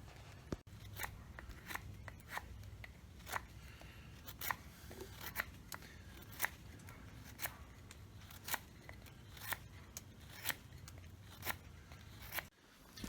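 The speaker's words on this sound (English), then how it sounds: "It's easier to remove the bulk of the waste material with an axe, then go back in and refine it with your knife." A knife carves a wooden bow drill spindle in a series of crisp, evenly spaced shaving strokes, each a sharp scrape about once a second, close and quiet over a soft background.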